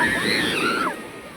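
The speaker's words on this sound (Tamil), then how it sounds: "காலுக்கு வந்துருச்சு தண்ணி காலுக்கு வந்துருச்சு ஃபுல்லாக நல்லா வேகமாக அடிக்குது" Sea waves at Karaikal beach surge in with a brief, loud rushing wash that then drops away as the water pulls back. A faint tonal voice sounds over the surf.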